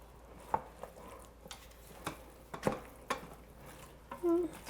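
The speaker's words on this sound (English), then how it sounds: "Give it a little zhuzh. Get it all mixed in." A utensil scrapes and clinks against the metal pot of an Instant Pot as sweet and sour chicken ingredients get mixed, with sparse, close taps and scrapes in a quiet kitchen.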